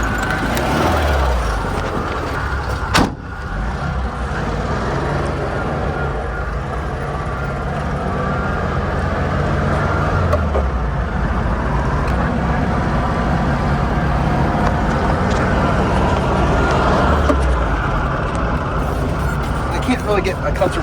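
A 1972 VW Super Beetle's engine drones steadily while driving, a continuous rumbling road noise with a brief bump partway through, and people talk over it inside the car.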